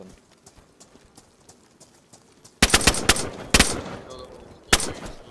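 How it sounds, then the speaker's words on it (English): Gunfire from a player in DayZ cracks out in several sharp loud shots, a tight rapid cluster followed by a lone report, after a quieter stretch of soft tapping steps. "there's a guy outside that keeps like, shooting at us"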